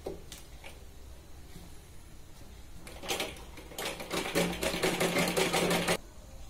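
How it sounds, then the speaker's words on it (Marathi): A sewing machine stitches along the edge of a blouse's back neck in short, close bursts, then runs in a longer, louder stretch of rapid stitching before stopping. "आता याला आपण कडेने शिलाई घालणार आहोत."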